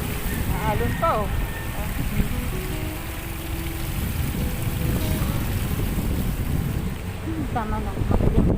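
Choppy flood water slaps and churns amid gusting wind buffeting the microphone, with brief voices calling out over the rushing waves, in Tuguegarao, Cagayan.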